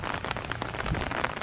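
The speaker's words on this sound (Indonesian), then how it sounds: "Walaupun kondisinya hujan seperti ini," Steady rain patters on a surface, a dense, even hiss of drops with no voices.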